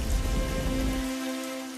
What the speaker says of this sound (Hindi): 3 साल बाद पहली बार गांव में झमाझम बारिश होने लगती है।